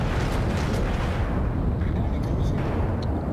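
Heavy naval guns firing from an Izumo battleship at a cruiser in World of Warships, a dense rumbling barrage of deep booms and blasts that stays loud and continuous throughout.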